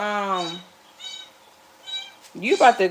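A small cat cries out in several drawn-out meows, close and fairly loud, with a person's voice speaking briefly near the end.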